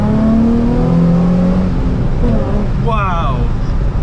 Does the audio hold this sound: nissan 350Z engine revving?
yes